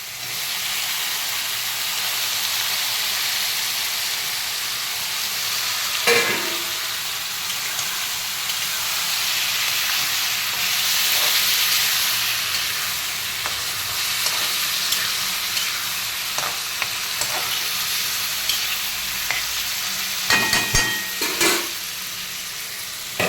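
Tomato sizzling in hot oil with ginger garlic paste for a tomato onion curry, a steady loud frying hiss throughout with a few brief stirring scrapes and clinks.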